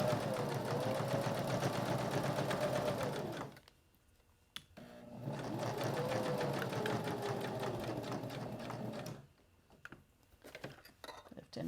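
A sewing machine stitches a fabric business card holder in two long, steady runs separated by a short pause for lifting and turning, with light handling clicks in between.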